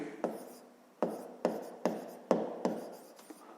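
Numbers being written out for a fifth-grade math exercise, a series of distinct pen strokes and taps about every half second, each followed by a short scratchy drag, close and fairly quiet with no talk.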